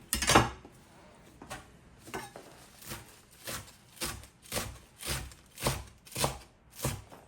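A knife chops a fresh bunch of cilantro on a board in a home kitchen while a burrito bowl is prepared, with about a dozen crisp, evenly spaced strokes that start loud and close and settle into a steady rhythm.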